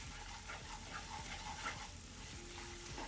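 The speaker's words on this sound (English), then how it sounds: "Start whisking it through. You want to cook this flour down for a good about a minute or so." A whisk stirs a flour roux cooking down in a pan, sizzling softly with a steady frying crackle and light scraping strokes, close and fairly quiet with no talk.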